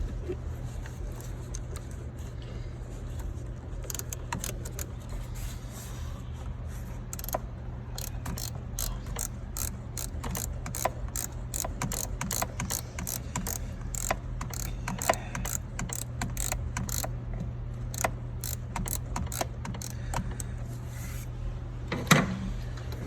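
A ratchet tightens the throttle body bolts on a 2009 Chevy Express van, giving long runs of quick, close clicks over a steady low engine-bay hum.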